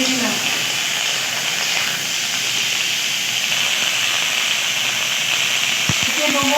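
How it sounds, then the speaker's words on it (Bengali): Washed vegetable stalks hiss loudly in hot mustard oil with black cumin seeds for a village-style summer dish, a steady steamy roar that runs throughout while the stalks are stirred, with a brief voice near the end. "এবার ধুয়ে নেওয়া ডাঁটাগুলো এর মধ্যে এবার একটু নেড়ে দিলাম।"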